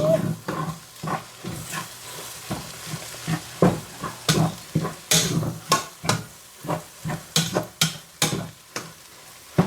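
Vegan ground beef browns in a pan for chili, a hissing sizzle broken by regular scraping stirs from a utensil, close and fairly loud with a steady rhythm.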